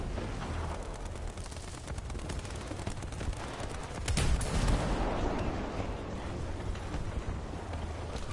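Tank gunfire in War Thunder against a Japanese Type 5 Chi-Ri: a continuous rumbling battle din with one heavy, boomy cannon blast near the middle standing above the steady background noise.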